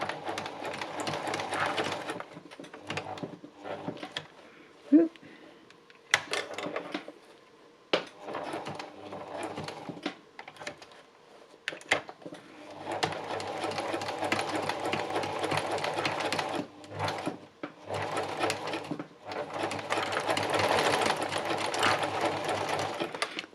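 A sewing machine stitches pieces of knitted boucle fabric in bursts of rapid, close mechanical whirring and needle clatter, broken by short pauses and small clicks.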